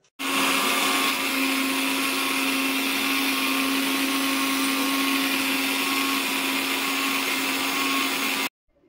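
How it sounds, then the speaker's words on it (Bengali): A kitchen blender whirs steadily while blending a banana and fruit smoothie, a loud continuous motor roar that starts abruptly, holds for about eight seconds, then cuts off, with no voices. "দিয়ে 2 মিনিট মতো ব্লেন্ড করে নিতে হবে।"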